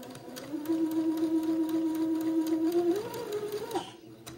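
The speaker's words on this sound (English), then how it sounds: "sew about a 1/8 little hem" A sewing machine runs steadily, stitching a narrow eighth-inch hem on a baby garment facing. The motor holds an even hum for about three seconds, then speeds up briefly before it stops, with no talk over it.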